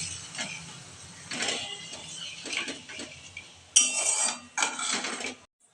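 A spatula stirring and scraping a spiced yogurt and potato curry mixture in a metal pan: repeated close clinks and scrapes in uneven bursts, with no talk.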